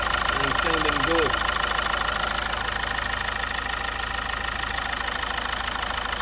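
Mazda 6 engine idling steadily after an oil pressure repair, a continuous even hum throughout, with a brief voice at the start.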